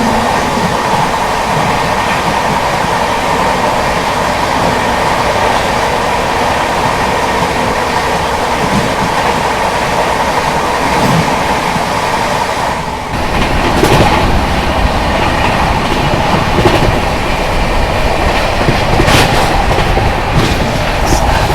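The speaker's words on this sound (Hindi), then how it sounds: "तो यहाँ पर अभी सामने से आ रही है दरभंगा नई दिल्ली बिहार संपर्क क्रांति एक्सप्रेस।" Darbhanga–New Delhi Bihar Sampark Kranti Express passing on an Indian railway line, heard from inside another moving train: a loud, steady rumble and clatter of wheels that grows busier and more rhythmic partway through.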